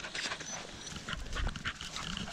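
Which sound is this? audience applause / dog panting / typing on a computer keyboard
dog panting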